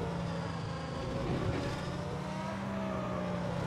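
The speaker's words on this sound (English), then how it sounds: "I love the sound of this V10 car." V10 race car engine in GT Sport, driven on an endurance circuit layout, giving a steady, faint drone that holds fairly even throughout.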